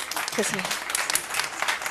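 Brief burst of audience clapping at a city council meeting in Placerville, with a voice speaking faintly underneath as the clapping continues.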